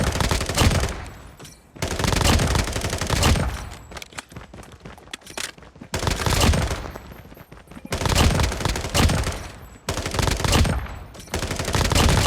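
SMG gunfire in Call of Duty Mobile comes in rapid, loud automatic bursts of roughly two seconds each, repeated several times with short gaps between them.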